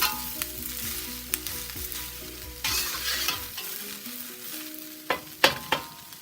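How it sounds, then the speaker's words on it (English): Bell peppers in mixed colours stir-fried in a pan for beef ramen, with scraping stirs and utensil clacks over a steady sizzle, a few sharp knocks near the end, no talking. "Okay, let's throw some peppers in"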